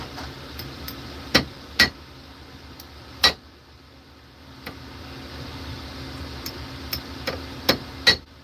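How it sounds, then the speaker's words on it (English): A metal part on a radio-controlled model is tapped straight with a hammer, giving sharp, close, irregularly spaced knocks, about a dozen over several seconds, some louder than others, with a faint background hum. "So what we can do is just hammer a bit this one just to make it a little bit straight"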